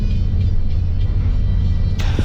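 An NPM intercity bus pulls out of Bukit Surungan terminal with a heavy, continuous low engine rumble, loud and close from inside. A brief higher-pitched hiss or clatter comes near the end, and there is no talking.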